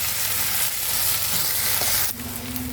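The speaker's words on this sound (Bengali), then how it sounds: "আমি আদা রসুনটা এখন দিলাম, আর একটু ভাজা ভাজা করবো" Ginger and garlic fry in a pan, a steady loud sizzle with a faint stirring scrape, alone without talk.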